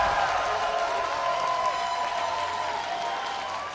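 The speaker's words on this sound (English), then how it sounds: "let me hear you cheer for Team Solo Mid" A large arena crowd at an esports regional finals cheers and applauds in a dense, continuous roar that stays loud and steady throughout, with no distinct voices standing out.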